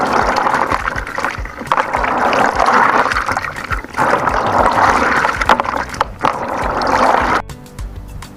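Shea nuts are rinsed vigorously in water, a loud churning slosh and splash of nuts and water worked by hand in rhythmic surges, close up, ending in a quieter trickle.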